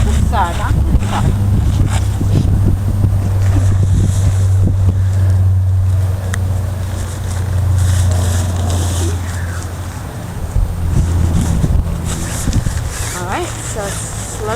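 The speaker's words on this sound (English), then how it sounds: "it's slightly windy today" Gusty wind at a beach buffets the microphone with a steady low rumble throughout, while someone talks over it during a tent setup.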